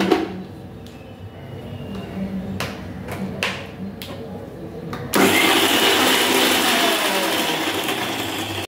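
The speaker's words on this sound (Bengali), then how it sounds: "এইগুলোকে আমি মিক্সার গ্রাইন্ডারে করে এইটাকে বেটে নেব সবগুলো একসাথে" A mixer grinder blending ginger, garlic and chillies starts after a few seconds of faint clicks and knocks, then runs as a loud, steady close whirring roar until the end.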